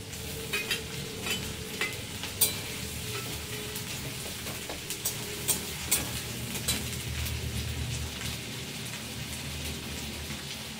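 Ginger and garlic sizzle in a pan with a steady crackling hiss, broken by occasional sharp pops and the scrape of stirring, close and moderately quiet, with no voices.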